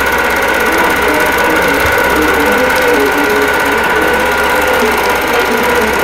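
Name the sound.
sewing machine quilting a wholecloth quilt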